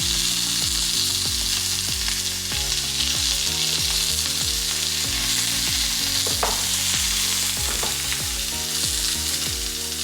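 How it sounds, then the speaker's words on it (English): A beef burger patty fries in a pan with a steady, close sizzle and crackle that runs throughout, partly under background music with a stepping bass line. "I let the patty cook for about 5 minutes or so on each side."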